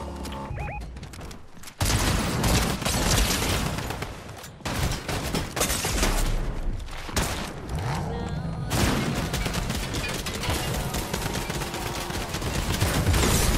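Loud, dense bursts of rapid gunshots and booming blasts from the video game Fortnite crowd together in chaotic firefights, with a player's voice faintly mixed in.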